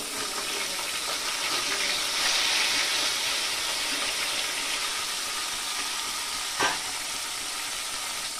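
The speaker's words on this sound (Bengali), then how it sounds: "মাছগুলোকে আমি লাল লাল করে ভেজে নিলাম" Rohu fish frying in hot white oil in a home kitchen, a steady loud sizzle and crackle that carries throughout, with a brief clink near the end.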